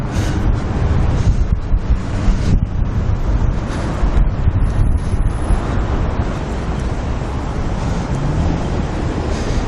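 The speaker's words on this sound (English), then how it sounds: "Oh, the wind! The wind is so strong." Strong wind blowing outdoors on a city street near buildings, a loud, continuous rumbling buffet against the microphone that gusts unevenly throughout, with no speech.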